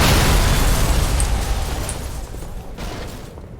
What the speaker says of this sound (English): this is the missile launch.